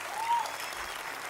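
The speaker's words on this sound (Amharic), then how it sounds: "አጨብጭቡላቸው።" A seated audience at a motivational speech bursts into brief, even clapping that fills the room, with no one speaking over it.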